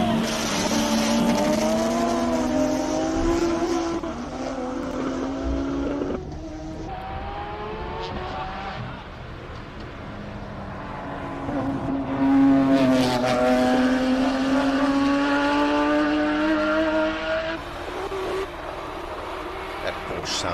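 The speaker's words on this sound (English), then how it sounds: "That Porsche sounds incredible." A Porsche race car at the Simola Hillclimb, its engine loud and sustained as it revs and shifts through gears, with rising and falling pitch. Commentators talk over the engine throughout.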